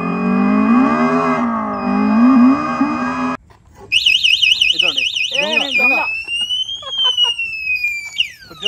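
A motorcycle anti-theft alarm wails in loud rising and falling electronic sweeps as the bike is pushed away, preceded by a steady engine-like drone, with someone talking over the siren.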